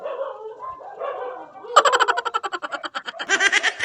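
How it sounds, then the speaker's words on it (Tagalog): Dogs bark rapidly and repeatedly, close by, in a sharp snarling burst after a stretch of lower, muffled noise. "may nag-aaway na aso"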